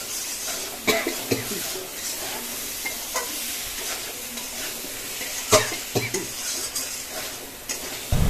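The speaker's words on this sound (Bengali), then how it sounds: "এটাকে নাড়াতে থাকবে, মানে কষাতে থাকবে প্রায় 2 মিনিট ধরে" Boiled yam stirred and fried with spices in a pan, a steady sizzle under scattered scrapes and knocks of the spoon against metal, with a brief cough-like burst partway through.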